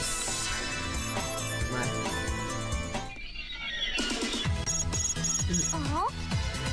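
Telephone ringing in the video game Hyperdimension Neptunia Re;Birth3, a repeated electronic ring tone over game music, with a brief quiet gap in the middle before the ringing and music resume.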